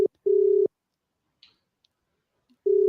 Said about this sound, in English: can you hear a phone ringing?